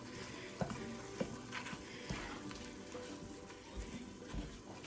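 One pound of ground beef frying in a pan, giving a steady close sizzle with occasional scraping knocks from stirring.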